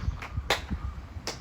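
Hand claps at a Japanese shrine during prayer in Tobata ward, Kitakyushu: a few sharp, separate claps spaced out over a quiet outdoor background, moderately close.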